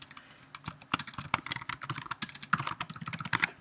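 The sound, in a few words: typing a password on a computer keyboard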